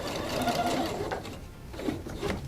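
Sewing machine stitching fabric on a diagonal right to the corner for a woven belt: a steady, close mechanical whirr with a rapid needle rhythm, faint voice sounds in the background.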